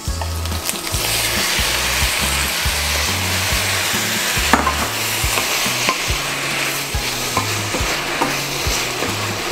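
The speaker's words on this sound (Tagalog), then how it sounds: "unahin ko pong ilagay ang ulo ng ating hipon para lumasa sa ating sauce" Shrimp heads sizzling and frying in alavar sauce in a pan, a loud, steady close-up hiss with repeated stirring scrapes, no talk.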